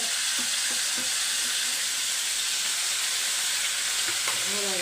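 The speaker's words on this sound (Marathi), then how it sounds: "हे बघा आता असं परतायचं जरासं परतायचं" A paste of onion and coconut fries in a pan with a loud, continuous sizzle, punctuated by a few spatula scrapes as it is stirred, and no talking.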